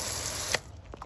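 A short hiss of spray mist onto a candy grape plant, steady for about half a second before cutting off, followed by a couple of faint clicks.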